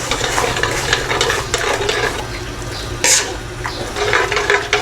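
Tilapia broth seasoned with two stock cubes and fish sauce, stirred in a cooking pot. Close, loud stirring and bubbling runs throughout, with a sharp clink of the utensil partway through and no voices.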